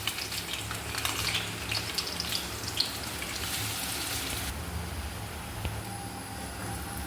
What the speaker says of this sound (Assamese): তেলটো গৰম হৈ আহিছে ইয়াত মই প্ৰথমতে পিঁয়াজ দিম